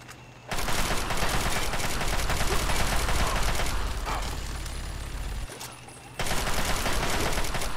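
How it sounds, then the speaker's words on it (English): Bursts of rapid automatic fire from a Chinese assault rifle in Fallout 3 rattle loud and continuous, with a short lull before another sustained volley. "Chinese assault rifle."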